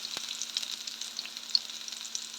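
Chicken wings for chicken mechado sizzling in a pan, a steady close crackle with small pops and no voices.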